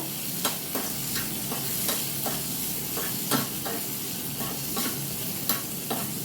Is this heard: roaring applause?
no